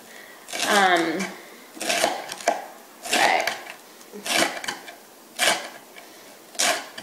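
A knife slices a bell pepper into julienne strips on a board, giving about seven distinct cutting strokes spaced roughly a second apart, close up and fairly quiet.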